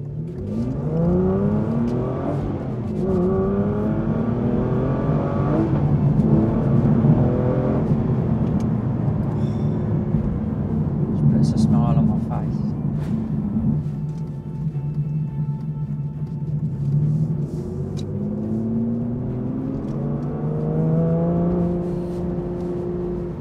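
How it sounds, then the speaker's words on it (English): An Aston Martin V12 Vantage Zagato's V12 engine pulls through the gears from inside the car, rising and falling in pitch with each shift, loud and steady throughout. "just hearing that engine note, it's beautiful."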